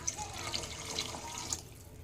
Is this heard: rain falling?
no